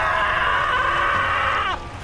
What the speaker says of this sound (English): I love his terrible screams.